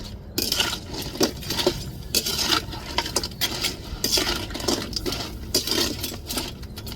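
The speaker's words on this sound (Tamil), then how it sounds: "இப்போ அப்படியே ஒரு தட்டை போட்டு மூடிடுவோம்." Metal clinks and clatters as a plate is set as a lid over a pan of crab gravy, with repeated close, sharp taps and rattles throughout.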